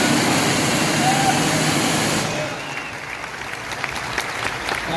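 Dense applause from an audience at an event honouring a chief guest, loud and continuous for the first couple of seconds, then thinning to softer scattered claps.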